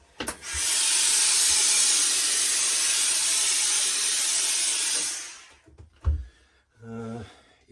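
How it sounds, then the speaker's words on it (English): A loud, steady hiss of steam blasts onto a felt hat brim for about five seconds, then cuts off, followed by a few soft handling knocks and a brief voice. "It's funny when you introduce a little bit of steam, it just brings it back into shape really quickly"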